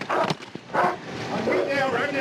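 A police dog barks and yelps in short bursts during a violent arrest of a suspect in a car, with shouting voices overlapping the barks.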